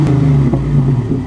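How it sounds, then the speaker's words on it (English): A 1990 Mustang with a 225-horsepower engine revving briefly: a loud, steady engine roar held close for a moment with no voices over it. "Give her a good rev!"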